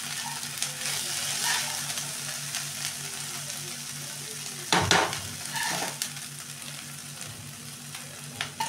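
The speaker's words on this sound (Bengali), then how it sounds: "মাছটা আমি হালকা করে ভেজে নেব।" Small kachki fish frying in oil in a kadai, a continuous close sizzle with brief louder crackles and stirring scrapes, steady and unaccompanied by talk.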